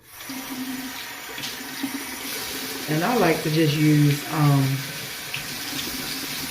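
Hot tap water running steadily from a faucet into a sink while rinsing off skin, with a person talking over the flow partway through.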